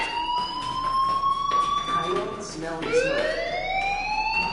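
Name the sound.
fire alarm ringing in a video game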